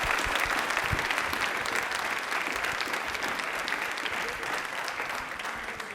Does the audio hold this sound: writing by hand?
no